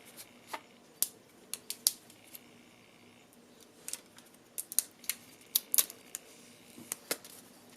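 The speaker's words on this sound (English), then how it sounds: "first let's unbox the Apple Pencil" Apple Pencil packaging being unboxed, with sporadic crisp crinkles, snaps and taps of paper and plastic wrapping, close and irregular over a faint steady hiss.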